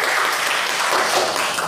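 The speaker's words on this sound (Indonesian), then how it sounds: "kita tepuk tangan buat kita semua" Audience applause at a religious talk or gathering, a brief continuous burst of many people clapping together at steady loudness.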